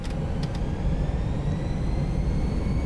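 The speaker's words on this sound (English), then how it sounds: "It's kind of cool to hear the engine sounds on takeoff." Airbus A320 jet engines at takeoff power in the X-Plane 11 flight simulator, leaving Phoenix: a loud, steady, broadband engine roar with a faint rising whine, constant throughout with no speech.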